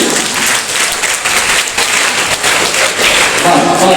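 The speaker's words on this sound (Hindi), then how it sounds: "तालियां हो जाए सबके लिए प्लीज" Schoolchildren at The Noble Mission School give loud, sustained applause, a thick wash of many clapping hands that fills the whole stretch without letup, with a few voices faintly mixed in.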